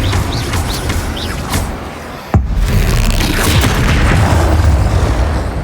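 A spell explosion in the video game Hogwarts Legacy, a sudden loud boom cutting through dense battle noise, followed by continued rumbling combat sounds, with faint chirping effects earlier.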